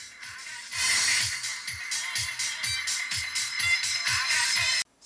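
Car audio horn speakers fed only high frequencies play music, bright and tinny with no bass, its treble-heavy sound lasting nearly five seconds before stopping abruptly.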